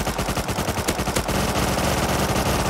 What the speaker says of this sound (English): I'm going to start shooting.